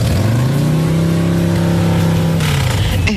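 A motorcycle engine runs steadily and loudly up close, droning at an even pitch that dips slightly near the end, from a bike that has just got a flat tyre.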